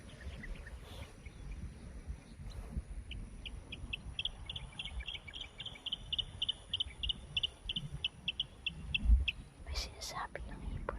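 A bird repeatedly calls in short, evenly spaced chirps over a rustling outdoor background, with faint whispery sounds and a soft thump near the end.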